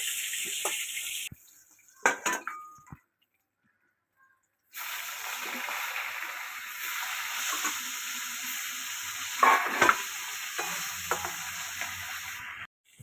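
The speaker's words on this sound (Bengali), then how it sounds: "বাকি যা মাছগুলো আছে, খয়রা মাছগুলো এবার ভেজে নেব।" Khoira fish frying in oil over a clay stove, a close hissing sizzle that stops briefly near the start and then resumes, with faint clinks of utensils and no talk.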